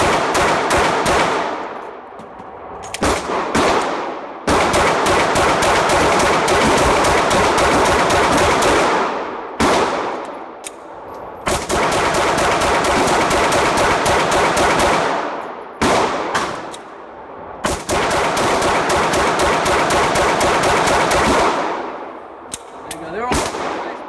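A Glock 19C pistol fires rapid strings of loud shots at a shooting range, with long sustained volleys broken by brief pauses, booming and close.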